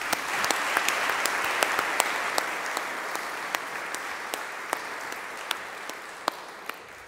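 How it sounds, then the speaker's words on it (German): A church congregation at a confirmation service applauds with dense, steady clapping from many people, a few sharper individual claps standing out through the sustained sound. "ich denke noch einen Applaus von euch"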